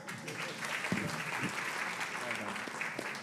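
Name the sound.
audience applause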